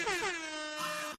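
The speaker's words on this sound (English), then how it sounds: "Can I get an air horn for the love connection?" A loud, sustained air horn blast used as a sound effect, holding one steady blaring tone for about a second before cutting off abruptly.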